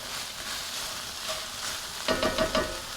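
Onions and peppers sizzle steadily in a pan, a close, continuous frying hiss that picks up a few sharper crackles and stirring clatters near the end, with no voices.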